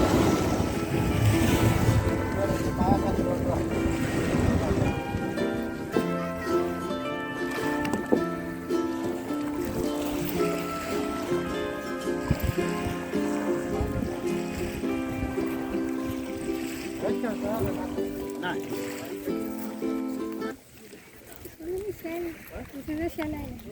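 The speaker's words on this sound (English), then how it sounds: "So we took a boat ride, a backwater boat ride" A boat ride on the Gad River backwaters at Talashil Tondavali: a steady drone of the boat on the water with wind buffeting the microphone, voices and tonal sound running over it before the noise drops away near the end.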